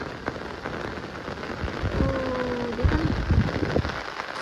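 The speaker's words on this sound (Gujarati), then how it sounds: "આમ તો ઘણો વરસાદ છે." Heavy rain pours steadily onto surfaces, a dense even hiss with occasional louder drops and splashes, close and unbroken throughout.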